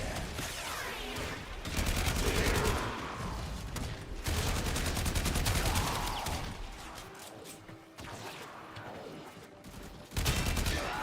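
Bursts of rapid gunfire from the PC video game Warframe, dense repeated shots in clusters across the clip with brief lulls, loud and close in the game mix.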